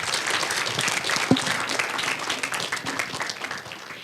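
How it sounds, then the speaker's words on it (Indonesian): An audience at an Indonesian football talk show welcomes an arriving guest speaker with lively, sustained applause, dense clapping from a crowd with a few sharper claps standing out. "Beri tepuk tangan yang paling meriah."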